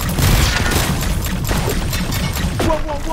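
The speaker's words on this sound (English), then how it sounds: "Stop shooting at me" Loud gunfire in the sci-fi shooter game High on Life forms a dense, continuous barrage of blasts and crashes, heavy and unbroken throughout.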